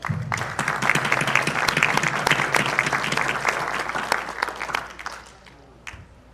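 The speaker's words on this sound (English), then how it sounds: "Let's give them a warm round of applause." A crowd at a church mayoral forum applauds warmly with dense, steady clapping that gradually thins out and fades over several seconds.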